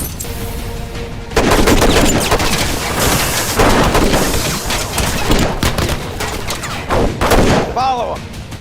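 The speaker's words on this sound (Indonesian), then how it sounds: "aksi tembak-tembakan Arthur dan Steve melawan para bodyguard Andre pun tak bisa dihindari." Loud, rapid bursts of gunfire crack again and again in an action film shootout against bodyguards, close and dense, with voices briefly heard between the volleys.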